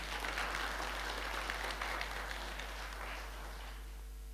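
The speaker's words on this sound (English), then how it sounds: "Give a round of applause to Chris." An audience applauds at a lecture forum, the clapping fairly quiet and fading out over a few seconds into a low steady hum.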